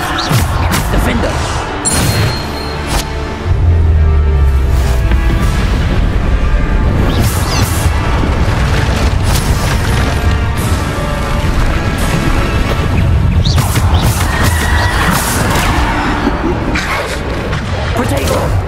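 Bombarda spell explosions in Hogwarts Legacy combat: repeated loud booms and crashes burst through dense, busy game noise over a long stretch, with a voice talking over parts of it.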